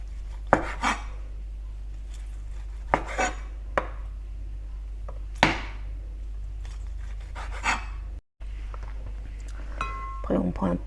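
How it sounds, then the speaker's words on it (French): A knife cutting braised chashu pork into thin slices on a board: a series of crisp, separate chops spaced a second or two apart, close by, over a quiet kitchen background. "On va couper en fines tranches."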